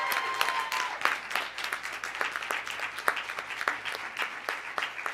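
An audience at a council meeting breaks into sustained applause, with many hands clapping in a dense, steady patter that carries on throughout.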